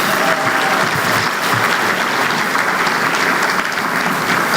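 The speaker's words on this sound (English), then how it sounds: "One more round of applause for Erica." Sustained applause from an audience at an awards ceremony, steady and fairly loud throughout with no talk over it.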